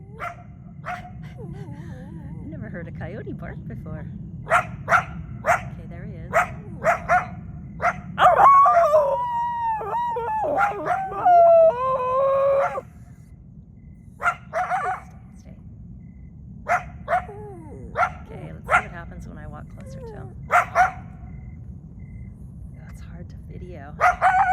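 A coyote roaming West Los Angeles barks in scattered bursts, then lets out a warbling howl of several seconds before going back to sporadic barks. It is moderately near and stands out clearly over a constant low outdoor rumble.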